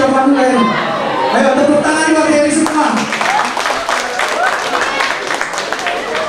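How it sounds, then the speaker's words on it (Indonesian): Students at a school motivational event clap for a classmate called to the front, a mixed burst of applause rising after a few seconds beneath ongoing talk from the group. "Ayo tepuk tangan buat Heri semua"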